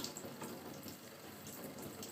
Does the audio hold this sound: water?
yes